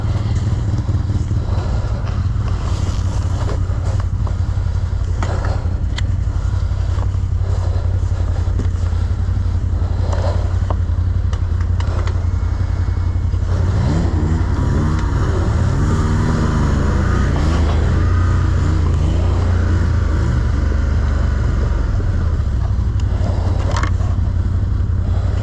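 A Can-Am Outlander XMR ATV engine roars continuously at high speed on a trail, loud and close, with clatter and scraping from the terrain and a few rising and falling revs.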